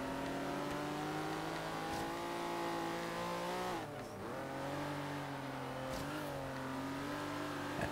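A sports car engine in Forza Horizon 3 drones and revs steadily with smooth pitch climbs, dipping briefly at gear changes, loud and continuous throughout.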